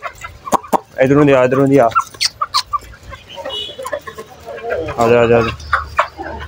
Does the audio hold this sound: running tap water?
no